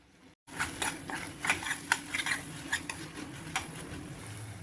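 Mango pickle stirred in sesame oil over a low flame, a spoon scraping and clinking against the pan in irregular strokes over a soft, steady sizzle, close and moderately loud without talk.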